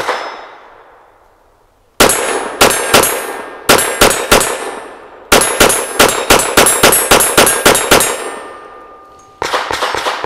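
A Walther WMP pistol is emptied rapidly at steel targets: a long run of sharp shots, each followed by a bright ringing clang, fired in quick bursts with brief pauses, loud and close.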